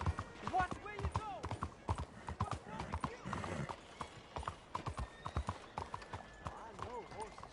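Rhythmic hoofbeats clip-clop nearby in the video game Red Dead Redemption 2, mixed with occasional horse whinnies and snorts, with talking voices in the background.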